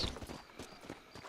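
Horse hooves clip-clop at a steady riding rhythm in the Red Dead Redemption video game, a brief faint run of soft, evenly spaced hoofbeats.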